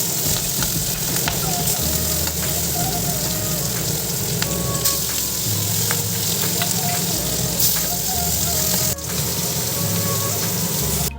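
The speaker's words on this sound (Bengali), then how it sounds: "এখানে যে মাছটা ভাজা বসে" Fish sizzling as it fries in oil in a pan in a Bengali home kitchen, a steady dense crackle and hiss filling the whole stretch at close range, with occasional faint clinks and soft voices underneath.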